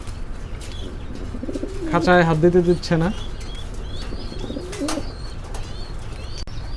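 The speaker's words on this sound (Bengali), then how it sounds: "কবুতরগুলো দেখতে পাচ্ছেন খুবই অ্যাক্টিভ" Fancy pigeons in a cage at a pigeon farm in Tangail coo in a short burst of low, throaty calls, with someone talking nearby and faint outdoor chirps around them.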